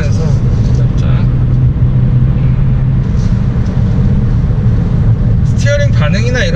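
Hyundai Grandeur IG 3.0 sedan in sport mode on a winding road, heard from the cabin as a loud, steady low engine and road rumble, with a brief voice near the end.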